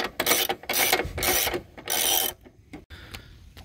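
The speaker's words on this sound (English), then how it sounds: "Oh, I love playing around with these jacks." A car jack under a Toyota RAV4 is worked and lowered, giving quick bursts of loud ratcheting clicks and mechanical clatter that end in a few quieter clicks.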